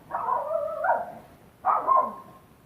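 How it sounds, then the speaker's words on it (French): A female dog barks twice indoors, a short run of close, fairly loud yaps followed by a second burst after a brief pause, with no talking. "si vous entendez ma chienne aboyer"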